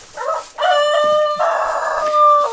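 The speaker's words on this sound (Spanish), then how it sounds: "aquí están todas las gallinas yéndose a la cama" Hens settling in to roost at dusk give loud, close, drawn-out crowing and squawking calls, several overlapping cries back to back with no talk.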